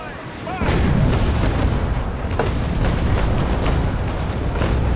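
Repeated cannon broadsides fired from the HMS Pandora, a sailing warship in the naval combat game Naval Action, boom loudly in a rapid, overlapping volley that lasts several seconds.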